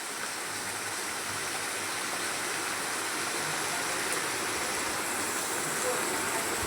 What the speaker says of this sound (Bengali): দারুচিনি দেওয়ার পরে আমি ভালোভাবে কষিয়ে নিচ্ছি নেড়ে চেড়ে।